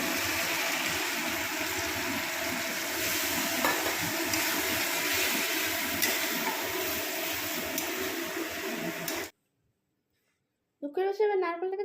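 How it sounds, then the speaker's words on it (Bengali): Pointed gourd (potol) curry stirred and fried in a pan, a steady close sizzle with scraping stirring for about nine seconds, then it cuts to silence and a voice begins speaking. "মা করছে কষা কষা পটল তরকারি"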